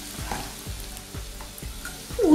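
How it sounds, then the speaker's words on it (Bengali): Egg bread pakoras frying in hot oil in a wok over low-medium flame: a soft sizzle with a few evenly spaced low knocks, and a brief tonal sweep at the end. "লো মিডিয়াম ফ্লেমে আমি পকোড়াগুলো ভাজছি।"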